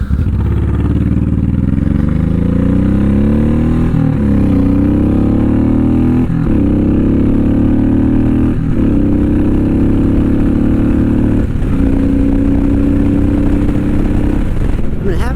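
A Honda VTX1800 cruiser motorcycle with aftermarket Cobra exhaust pipes rumbles steadily while riding, its deep engine tone rising and falling through several gear changes, close and loud throughout.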